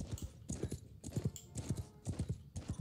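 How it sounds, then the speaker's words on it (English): Rapid, rhythmic clip-clop of galloping hooves from a charging horse archer in the Mount and Blade video game, loud and close, with steady repeating beats and no talk. "They have a single horse archer who looks like he's trying to charge at us."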